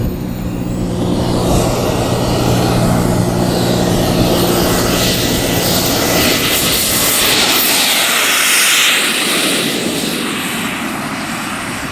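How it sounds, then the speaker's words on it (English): A radio-controlled turbine jet plane takes off, its engine a loud, steady roaring whine with a high hiss that holds throughout and shifts slightly in pitch as it passes close by, with no one talking. "We're going to try and let the plane lift itself off and just gently urge it off the ground."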